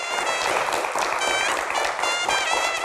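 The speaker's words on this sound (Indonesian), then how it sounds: "Kita berikan tepuk tangan yang paling meriah." A studio audience at an Indonesian talk show claps and cheers for a guest, a government minister, in a dense, continuous wave of applause.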